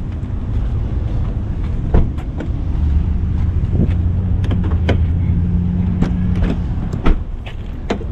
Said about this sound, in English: That's the loudest Cadillac I've ever heard.